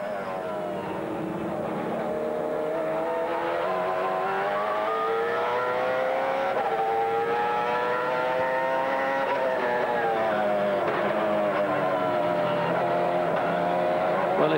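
A BMW V8 GT race car laps the Jarama circuit in a 2001 endurance race, its engine droning steadily with rising and falling pitch as it shifts, loud throughout.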